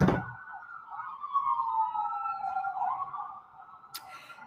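An ambulance siren wails outside in a long, steady, slowly sliding tone that holds at moderate distance before a sharp click near the end, with no talk over it.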